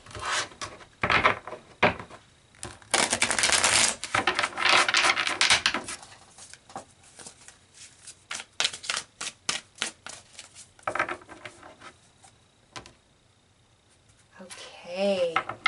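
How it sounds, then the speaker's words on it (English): Tarot cards being shuffled by hand on a table, with bursts of riffling and rubbing card noise in uneven clusters, separated by quieter gaps and a voice speaking between them. "I feel like I need to do a shuffle for you guys."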